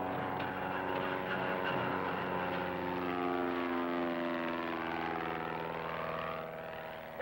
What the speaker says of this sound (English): Is that an airplane? Well, it's flying